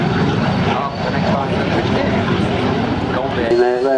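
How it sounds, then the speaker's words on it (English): L-29 Delfin jet trainer performing a display at the 1999 Biggin Hill Air Fair, its broad engine roar steady and loud throughout under commentary on a public address system. "the L29 Delphin, the master display"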